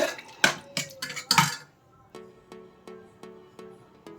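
Aloo curry being served into a serving bowl, with a spoon clinking and scraping against the metal vessel in several sharp knocks, followed by a run of softer, evenly spaced taps that ring briefly.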